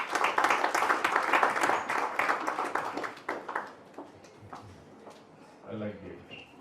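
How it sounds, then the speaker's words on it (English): An audience at a book launch for 'The Secret Law of Blessing' claps in a loud burst of scattered, crisp hand claps that thins out and fades after a few seconds, leaving quieter room sound and a brief voice near the end. "let's have a round of applause for Mr. Subhash Ghai."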